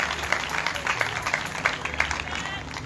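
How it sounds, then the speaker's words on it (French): Congregation clapping and cheering at a church service, a dense, lively burst of hands and voices filling the room with a steady crackle that never quite settles, crowd noise and chatter mixed throughout. "Est-ce que vous voulez applaudir mon Dieu plus fort toujours?"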